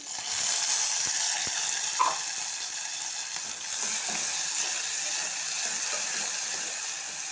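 Onion pieces and green chillies fry in a pan with a soft, continuous sizzle, steady and close, with a few faint clicks of a utensil against the pan.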